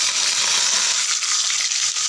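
Mustard seeds and urad dal spluttering in hot oil, a steady dense crackle of tiny pops and hiss running continuously at close range with no voices.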